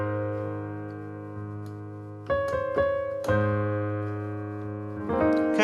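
A few soft sustained keyboard chords and a short melodic lick with bell-like notes, quiet and unaccompanied, playing the intro of a song.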